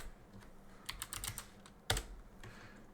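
Keys clatter on a computer keyboard in a short burst of quick, close typing, followed by one louder key press.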